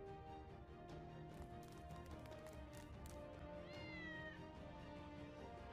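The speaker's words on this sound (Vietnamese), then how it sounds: "một con mèo sao mà ghê gớm như vậy được chứ?" An animated cat attacks in a Buddhist cartoon, yowling and meowing amid scuffling thumps and rapid clatter, with a quick squealing cry near the end, all fairly faint under a steady background.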